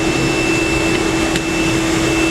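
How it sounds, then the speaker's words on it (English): A 60-pound commercial washing machine runs in a laundry with a steady, loud mechanical hum and whir, holding an even tone throughout with no talk over it. "So this is a 60-pound washer."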